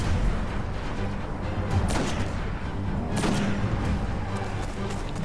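Destiny gunfight at the Garden's Spire, with a couple of sharp blasts and booms over a dense, continuous rumble of weapon fire and explosions, loud and busy throughout with no clear talking.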